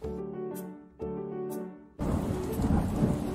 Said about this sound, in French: Mais un beau jour, il se mit à pleuvoir.